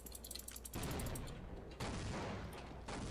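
In the video game Half-Life, grenades go off as broad, roaring blasts. Two or three heavy bursts follow one another and ring out loud and close, each one rolling on for about a second, with no voices.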